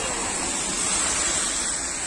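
Rainwater rushes along a roadside channel on a rainy day, a loud, steady broadband wash of flowing water heard up close with no break.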